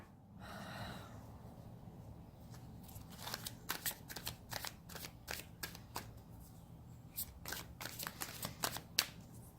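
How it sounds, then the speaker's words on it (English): A soft breath is followed by quick, repeated tarot card shuffling: crisp flicks and riffles in irregular bursts, close and quiet, no speech. "Give me one moment to finish shuffling."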